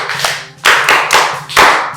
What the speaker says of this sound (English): Clap properly for her.